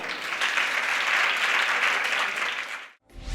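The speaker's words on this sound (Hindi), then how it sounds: "एक बार तालियां बजाओ तुम।" Audience at a Jain religious sermon applauding, a loud, dense, steady burst of clapping that cuts off abruptly near the end.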